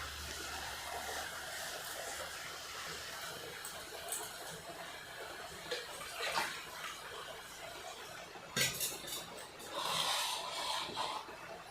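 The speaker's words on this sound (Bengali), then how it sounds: "এইভাবে তিলটিকে খুব সুন্দর করে চটকে চটকে জল দিয়ে ধুয়ে নিতে হবে।" Sesame seeds are squeezed and rubbed by hand in a bowl of water, a soft, steady sloshing and wet rubbing close by, with a few louder splashes toward the end.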